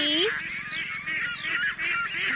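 Farm-raised ducks (itik) call loudly and close by in a continuous run of nasal honking quacks, several birds overlapping without pause.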